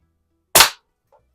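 A Gamo 126 Super Match single-stroke pneumatic target rifle fires one sharp, close crack in a garage, followed by a faint small knock of the target being hit.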